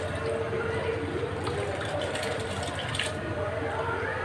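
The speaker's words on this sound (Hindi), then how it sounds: "पानी बॉईल हो गया है" Steady bubbling and rolling water noise from a pot of water at a boil before rice is added, running continuously with a low rumble throughout.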